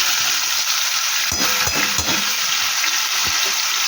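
Taro greens with chilli frying in a pan, steady broadband sizzle throughout with a few soft scraping stirs near the middle and toward the end, close and fairly loud, no voices.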